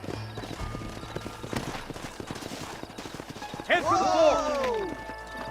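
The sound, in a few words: horses' hooves clip-clopping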